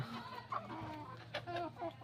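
Chickens and roosters on a poultry farm in the late morning cluck in short, fairly close bursts, several calls scattered over a steady low background hum.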